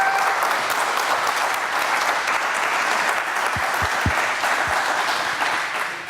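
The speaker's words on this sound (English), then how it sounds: "A big round of applause for Dawn." Sustained applause from a conference audience after a talk on lean testing, steady and broad throughout with a few low thumps near the end, no voices on top.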